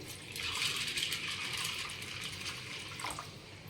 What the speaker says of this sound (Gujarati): હવે આપણે એના અંદર પાણી રેડીશું.